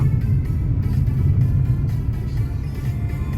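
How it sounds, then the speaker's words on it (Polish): A bus rumbles past at close range on a mountain road in Anaga, Tenerife, a steady low engine drone with road noise and no voices. "Autobus."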